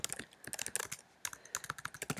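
Rapid typing on a computer keyboard while coding a Python game, quick irregular clicks and key taps, close and fairly quiet, with a brief pause midway.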